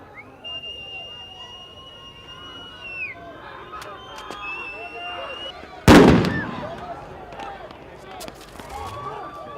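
A sudden loud explosion bursts during a street protest against police, a sharp blast followed by a short rumbling decay, heard amid sirens and shouting voices in the crowd.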